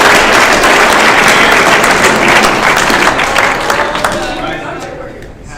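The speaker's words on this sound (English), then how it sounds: "So give them a round of applause for them." A crowd at a football banquet applauds loudly and steadily in a dense wash of clapping that gradually fades over the last couple of seconds.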